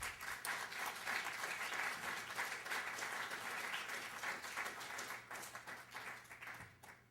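An audience applauds to welcome Ambassador R. Nicholas Burns to the stage. The clapping is sustained and fairly distant in a hall, keeps up for several seconds, then tapers off.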